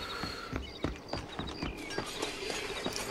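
Horse hooves clip-clopping in the Western video game Red Dead Redemption, a close, uneven run of hollow hoof thuds as the animal shuffles and steps, with a faint outdoor ambience and no talking.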